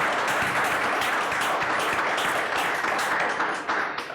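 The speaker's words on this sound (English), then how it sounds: "So may we please give you a round of applause," An audience at a fireside chat interview event gives a round of applause, dense and continuous clapping from many hands that stays strong throughout and tapers slightly at the very end.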